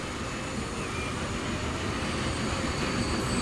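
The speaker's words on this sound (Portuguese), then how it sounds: "Esse aí é um trem para pegar alimento." A train in the game Transport Fever rolls in with a dense, steady rumble of wheels and track noise, fairly loud and unbroken, with no talking.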